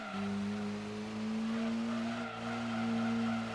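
A V8 car engine from the Gran Turismo 2 video game holds a steady, buzzy drone with slowly rising pitch, faint and alone, with a brief dip partway through.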